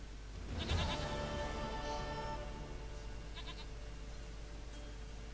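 A goat in The Witcher 3 video game gives several short, wavering bleats spaced a second or so apart, fairly quiet over a constant low background hum.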